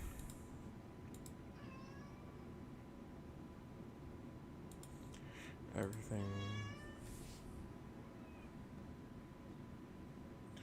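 A pet cat lets out a couple of meows, a softer one early and a louder, drawn-out call near the middle, close by, while a person talks quietly over a steady background hum.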